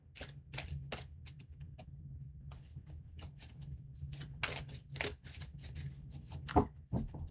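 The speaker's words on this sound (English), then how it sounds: "These cards do not want to shuffle." Tarot cards being shuffled in repeated crisp riffling bursts, papery flicks and taps close to the microphone, with a soft thump near the end.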